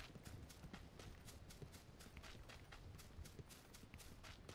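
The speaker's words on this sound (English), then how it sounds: "When it hits your helmet, it sounds like someone's walking." Rain drumming on a helmet in the PUBG video game, a steady run of soft, evenly spaced taps that closely resemble footsteps, continuous and fairly close with no talk over it.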